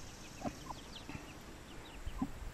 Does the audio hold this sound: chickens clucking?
yes